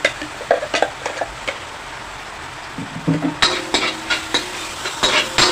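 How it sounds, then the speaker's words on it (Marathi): Ground onion-and-coconut masala paste being roasted in a pan for katachi amti, with a low sizzle under repeated scraping and clinking of a spatula against the pan, the stirring growing louder and busier in the second half. "चांगल्यापैकी भाजा छानपैकी भाजा वाटप"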